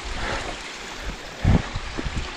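Mountain stream running beside a waterfall in the Lake District, a steady broadband rush of water with a few louder splashes and gurgles near the middle, close and continuous with no talk.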